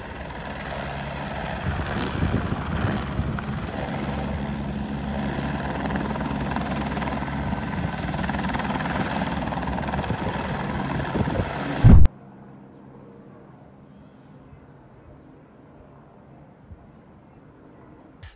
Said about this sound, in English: This helicopter filling a bucket with water to help out with a wildfire in Sicily.